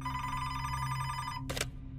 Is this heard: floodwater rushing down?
no